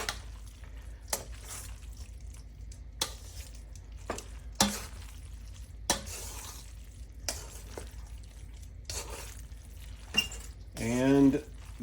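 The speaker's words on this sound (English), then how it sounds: "I'm going to continue to toss it here to get the red sort of more distributed throughout the pasta" Amatriciana pasta being tossed in tomato sauce in a pan, with a soft steady sizzle broken by scattered clinks and scrapes of utensil on pan, close by, and a brief rising scrape near the end.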